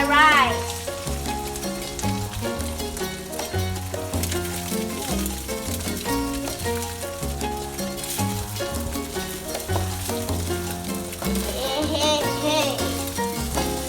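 Rice for salmon fried rice is tossed into a hot pan and stir-fried, giving a continuous loud sizzle with scraping stirs, while music plays throughout.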